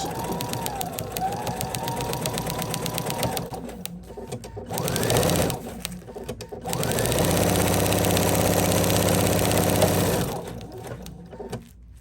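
A sewing machine with a walking foot and stretch needle runs in sustained bursts through sherpa and faux fur fabric, a steady mechanical whir that pauses briefly midway, then resumes for several seconds before winding down.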